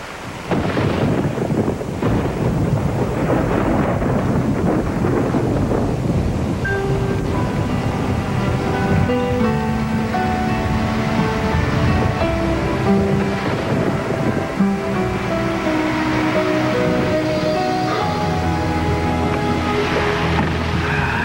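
Thunderstorm with heavy rain, a dense, loud wash of downpour and rumbling thunder that never lets up, with sustained musical tones rising over it in the second half.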